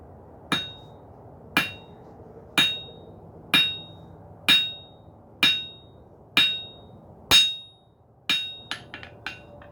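A hammer rings sharply on a metal tip laid at the edge of an anvil while forging a belt buckle: about nine evenly spaced heavy blows, each decaying, then a few quicker, lighter taps.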